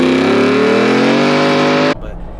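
A Ford Bronco with a 2.3 EcoBoost engine and Corsa exhaust revs loudly and steadily for about two seconds, its deep, throaty note rising slightly before cutting off abruptly into quiet background noise.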